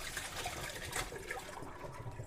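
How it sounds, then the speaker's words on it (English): Soaked potatoes being drained in a kitchen, giving a steady, soft wash of running and trickling water that stays even throughout, with no talking. "what we're gonna do is take them out of the water and just drain them"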